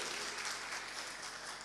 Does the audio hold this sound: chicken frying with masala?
no